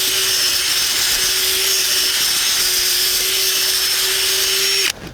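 Cordless drill fitted with a power planter auger churns hard garden soil, a steady loud motorised whine running unbroken for about five seconds before cutting off abruptly at the end.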